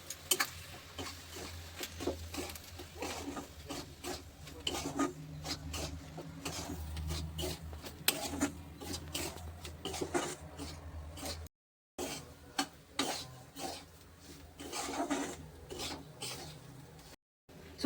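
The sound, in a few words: semolina being lightly fried in a pan with vegetables for upma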